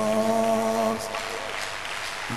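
A crowd at a religious healing crusade breaks into loud, sustained applause right after a voice, the clapping filling the rest of the moment.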